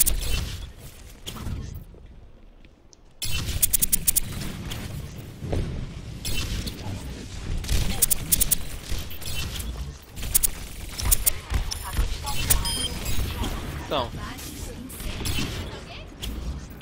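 Gunfire in the first-person shooter Tracer, heard as sharp, scattered shots and bursts of varying loudness over a busy in-game soundscape of booms, mechanical clatter and footsteps, with a player talking throughout.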